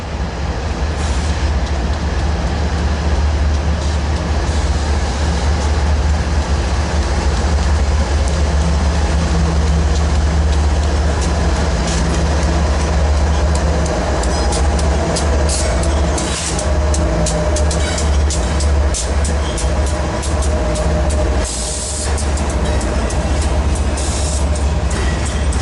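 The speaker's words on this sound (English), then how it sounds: "but pretty sure it's a Z train" A Z-series intermodal freight train led by locomotive 7432 rolls steadily past at close range, a loud continuous rumble of railcars and wheels on track with intermittent clicks and brief wheel squeal.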